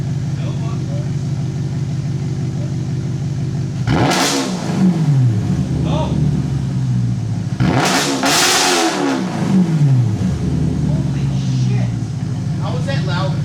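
An Audi RS5 V8 with a Z-pipe and H-pipe exhaust and no mufflers idles with a deep burble, then revs hard twice in loud, raw bursts, with people talking over it.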